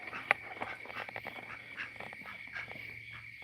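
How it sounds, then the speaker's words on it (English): A duck on a chicken farm gives a few short quacks amid steady farmyard background noise, with one sharper call standing out near the start. "I hear you, duck."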